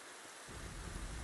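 Steady rain from the video game Silvae, a dense hiss that swells to a fuller, heavier downpour with low rumbling weight after a brief quieter start, continuous and close with no voices.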